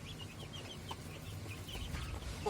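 Hens in a backyard flock with growing chicks, one a blue-egg-laying breed, give soft, scattered clucks over a steady low outdoor hum, near and moderately loud.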